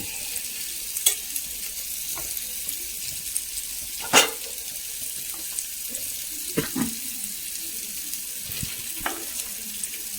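Fish fries in a pan in a home kitchen, a continuous close hiss of oil bubbling, broken by scattered clicks and scrapes of a utensil, one louder knock near the middle.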